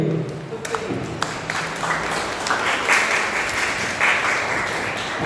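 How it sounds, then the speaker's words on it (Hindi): Participants at a Jain Bhaktamar training session give themselves a round of applause, a loud, sustained wash of many hands clapping that swells and holds for several seconds. "अब अपने लिए जोरदार एक ताली बजा लीजिए"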